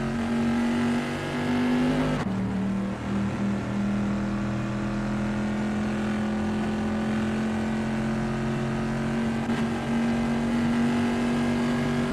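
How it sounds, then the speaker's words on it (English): Bizzarini GT 5300 race car in a video game on the Imola circuit at Tamburello, its engine droning loud and steady throughout, with a sharp gear-change drop near the start and sustained high revs afterward. "That ACL GTC Bizzarini GT 5300 Casa looks good driving through Tamburello."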